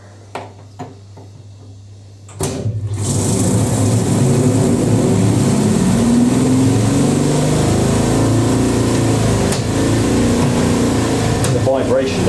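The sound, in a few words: 1980s Ariston Colston spin dryer running a long spin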